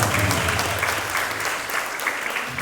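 Evangelical Assembly of God congregation in Teresina applauding during a service, a dense, loud, continuous wash of clapping from a large crowd with a faint voice underneath.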